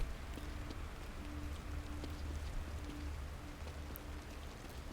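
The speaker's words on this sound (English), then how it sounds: "It's rainy." Steady rain in the horror video game The Evil Within, a continuous even hiss of falling drops with a faint low hum beneath it and no talking.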